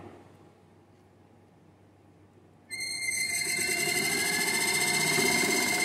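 A DC generator in a lab, started with variable voltage, sits in a low hum, then abruptly spins up into a loud mechanical whir with high whining tones that keeps running steadily.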